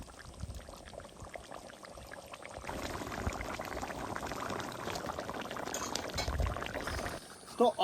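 Fried ridge gourd and egg tipped into a pot of boiling curry, giving a soft pouring, splashing sound over steady bubbling, with quiet talk partway through.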